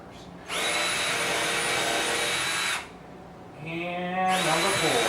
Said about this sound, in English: you definitely want to drill those pilot holes in first